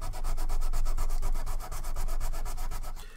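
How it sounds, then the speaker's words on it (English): Very coarse sandpaper rasps back and forth in quick, even strokes, loud and close, with a brief pause midway before the steady scratching rhythm resumes. "this is a very coarse sandpaper, so it should get a good amount of the job done"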